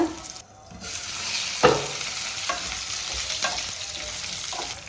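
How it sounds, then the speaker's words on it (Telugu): Drumstick pieces fry in oil for a milk-based curry, giving a steady close sizzle broken by a few scraping stirs of a spoon against the pan. "మునక్కాయలు అడగంటకుండా ఇలా తిప్పుతూ ఉండాలి"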